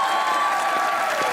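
A comedy show's studio audience breaks into dense, loud applause, continuous clapping and some crowd noise throughout the short stretch with no talking.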